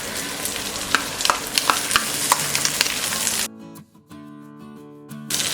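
Potato, cauliflower, green peas and capsicum stir-frying over high flame on a tawa, with a steady sizzle and clattering stirs for about three seconds before a quieter stretch with sustained tones in the background.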